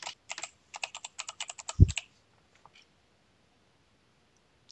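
Fast, light keystrokes on a computer keyboard during a user search in a web admin console, with a steady run of close clicks, a heavier thump near the end, then near silence.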